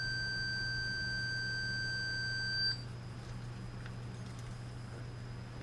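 A multimeter's continuity beep sounds on the tuning condenser of a Silvertone Companion 57 D 1704 radio: one steady, clear high tone holding for nearly three seconds, then cutting off over a faint background hum.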